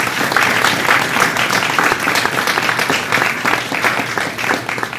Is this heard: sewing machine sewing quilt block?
no